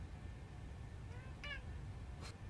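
A cat gives two short, faint meows over steady low background noise, one at mid-point and a thinner one near the end.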